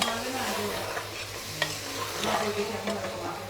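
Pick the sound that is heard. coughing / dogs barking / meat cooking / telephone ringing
meat cooking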